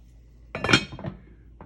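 A lid clinks down onto a pot of oxtails at a simmer on the stovetop, one bright metallic clatter with a short ringing tail and a faint tap after it, close and alone.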